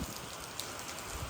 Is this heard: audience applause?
no